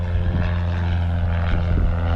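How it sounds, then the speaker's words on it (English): Civilian propeller aircraft taking off, its engine droning loud and steady with a strong low hum throughout, held close and continuous. "Civilian aircraft taking off."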